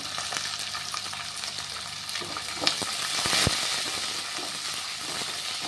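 Chopped onions frying in oil in a pan for samiya upma, a steady close sizzle with occasional stirring clatter and a sharp scrape near the middle, no talk.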